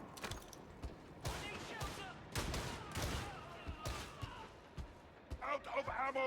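Bullets strike an Ogryn's slab shield in Warhammer 40K Darktide during a Damnation-difficulty fight, with repeated sharp gunfire impacts and bursts packed close together amid game noise, plus a few brief voice snippets.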